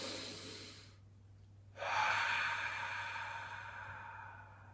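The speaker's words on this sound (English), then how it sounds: "take 3 deep breaths in through the nose and out through the mouth" Slow, deep breathing, with one breath drawn in through the nose and another pushed out through the mouth, close and fairly quiet over a steady low hum, with a silent pause between the breaths.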